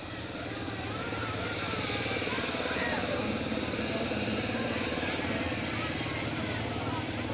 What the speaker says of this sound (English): He's in his garden tractor right here.